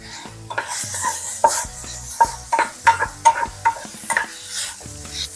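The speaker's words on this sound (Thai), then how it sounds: "หมูสามสั้นลงไป พัดให้น้ำมันหมูออกครับ" Pork belly sizzles in a hot pan while a utensil scrapes and stirs in a steady series of clanks and scrapes.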